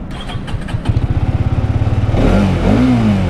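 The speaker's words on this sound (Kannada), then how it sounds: "ಎಕ್ಸಾಸ್ಟ್ ಸೌಂಡ್ ಈ ಥರ ಕೇಳಿಸುತ್ತೆ, ಇಂಜಿನ್ ಸೌಂಡ್ ಈ ಥರ ಕೇಳಿಸುತ್ತೆ." A 2025 Hero Xtreme 250R motorcycle engine idles with a steady pulsing putter, then revs up loudly with rising and falling exhaust roars, close by.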